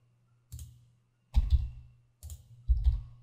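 Typing on a computer keyboard, heard as four separate bursts of close clicking keystrokes: one short tap, then three quicker clusters of keys with brief silent gaps between them.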